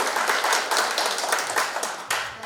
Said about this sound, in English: So please give applause to Perry, Clark, Liz Allen, and Victoria Dav